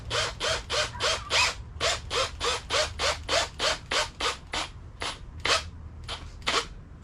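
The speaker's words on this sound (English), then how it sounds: "so you want to screw in the flat piece on this part" Screwing a flat bracing piece onto an outboard lower-unit gear-case stand produces a steady run of about fifteen regular ratcheting bursts, close and loud, with no talk, slowing and thinning toward the end.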